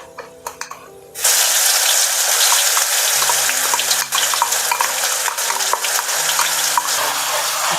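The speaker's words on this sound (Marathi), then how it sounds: "आता आपण ही मिक्सरमधून वाटून घेतलेली मिरची आपण कढईमध्ये घालणार आहोत" Ground green chillies drop into hot oil in a kadai and set off a sudden loud, steady sizzle that keeps hissing evenly with faint stirring clinks.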